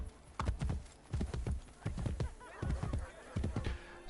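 A horse gallops in Assassin's Creed Brotherhood, its rapid hoofbeats landing in loud, rhythmic bursts close by for a few seconds, carrying a rider across open ground.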